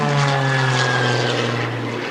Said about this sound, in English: Look at how quickly that airplane rolls, over 400 degrees per second roll rate in the MX2.